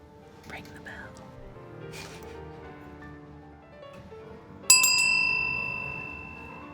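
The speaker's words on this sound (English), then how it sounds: "Ring the bell." A single bell rings out sharply near the end and rings on with a fading metallic tone, following quiet murmured voices in an eerie folk-horror tabletop game setting.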